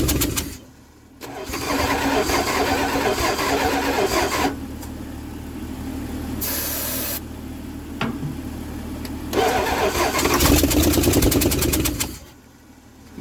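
A 1966 Dodge Dart six-cylinder pulled from a junkyard, running on little or no fuel, cranks and fires into a loud, close engine roar. It runs steadily for about ten seconds with brief dips and surges before cutting out.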